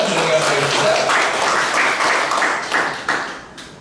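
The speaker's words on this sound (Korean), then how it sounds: "큰 박수로 맞아주시면 감사하겠습니다" An audience at a sustainable development academy session claps to welcome a speaker to the front, with scattered individual claps and some voices mixed in, thinning out toward the end.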